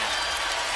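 A football stadium crowd cheers during a BC Lions versus Saskatchewan Roughriders game, a loud dense continuous roar with no breaks.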